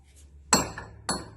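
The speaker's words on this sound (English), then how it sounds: "I'm just going to drive these ones out just to show you how you do it. Grab your hammer" Two sharp metallic hammer strikes, about half a second apart, ring out while broken wheel studs are driven out of a hub, each blow followed by a brief clanging decay against a quiet background.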